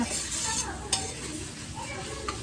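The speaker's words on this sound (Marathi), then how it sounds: "आलं लसूण पेस्ट कांदा वगैरे हे व्यवस्थित पोळलं जात आहे" Ginger-garlic paste and onion fry in a pan for dal khichdi, a steady close sizzle with a couple of sharp clicks from stirring utensils against the pan.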